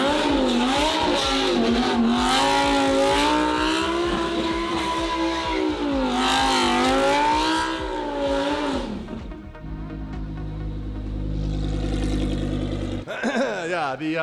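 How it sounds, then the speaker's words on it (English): A supercharged V10 car with a straight-pipe exhaust revs hard and close, its loud screaming engine note climbing and falling in repeated sweeps before settling into a rough, droning hold. "the supercharged V10 straight pipe, she's a screamer"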